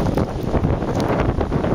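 Hurricane Isaac's wind batters a foam-covered microphone in southern Alabama, a loud, constant rumbling buffet with gusty surges and no voices.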